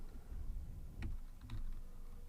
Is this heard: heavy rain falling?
no